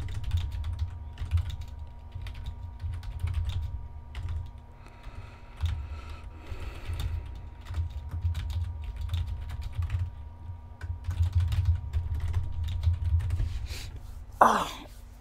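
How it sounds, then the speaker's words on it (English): Rapid typing on a computer keyboard clatters close by in quick, uneven bursts of clicks over a steady low hum, ending with a brief throat clear. "Yep, my typing sucks."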